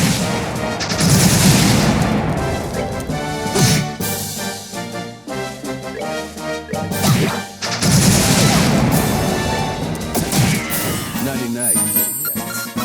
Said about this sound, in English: It's their constant missile barrages.